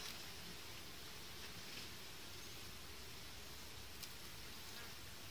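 Calm honeybees on a brood frame give off a faint, even buzzing hum at close range. It continues without a break and without voices.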